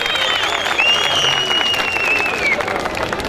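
Audience applause after a folk dance performance at the Tatvan Eastern Anatolia Fair: steady, dense clapping throughout, with a thin whistle-like tone rising and fading above it and some voices mixed in.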